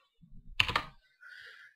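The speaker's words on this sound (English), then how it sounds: "Yep, there's my typing." A short burst of close, quiet computer keyboard typing, a few quick keystrokes entering numbers to check a mental math squaring answer, followed by a faint high hiss.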